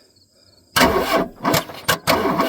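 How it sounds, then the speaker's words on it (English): A starter cranks on an '83 K-Car wagon jumped at the solenoid, silence first, then loud, close bursts of grinding engine turnover in uneven pulses with short gaps, with a brief spoken word amid it. "We're just jumping the starter solenoid over here."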